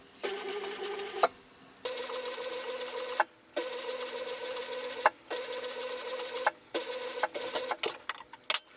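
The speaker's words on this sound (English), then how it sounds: "So let's hop on over to the machine and sew that." A sewing machine sews a flat felled seam in a series of short, close bursts, each a few seconds long and separated by brief pauses, ending in quicker stop-start spurts.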